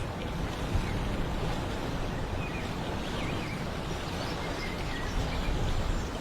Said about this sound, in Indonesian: Diiringi desir angin laut yang sejuk serta depuran ombak yang memecah keheningan pantai.